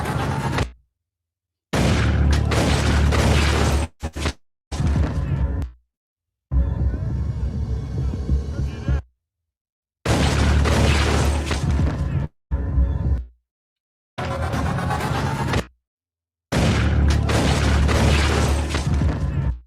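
Loud bursts of gunfire and crashing impacts from a shootout in the TV drama Power Book IV: Force, arriving in several separate loud blocks split by short silences, with voices mixed in among them.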